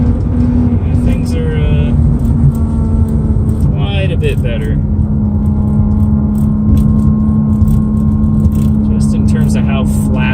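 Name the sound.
Lexus IS300 car driving on a test drive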